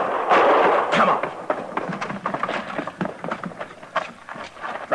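Gunshots in an old-time radio Western drama, several sharp cracks and thuds scattered through a busy, echoing scene, loud and close, with some commotion around them.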